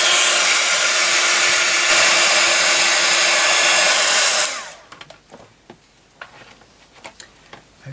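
A hair dryer blows loud and steady at close range over a mixed media canvas for about four seconds, then cuts off, leaving faint scattered clicks and taps.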